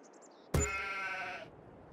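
A single sheep bleat in the video game Farming Simulator 22 plays as a pasture is placed: one clear, wavering call of about a second, close and alone after a few faint soft tones.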